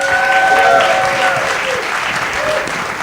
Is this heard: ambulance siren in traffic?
no